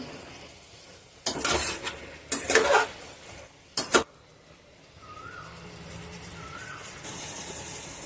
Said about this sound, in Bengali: হলুদ আর জিরের গুঁড়োটা দিয়েও আমি একটু নেড়ে নেব।